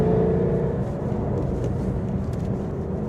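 Supercharged 2016 Ford Mustang S550 GT V8 with a Whipple supercharger conversion making around 750 horsepower, a steady loud low rumble with slight whine, held near the microphone with no rising rev.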